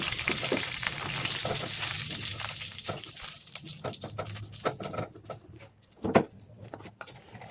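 Dried red chillies and bay leaves sizzle in hot oil for a Bengali drumstick curry, a steady crackling fry with scattered pops and stirring clicks, one sharper burst near the end.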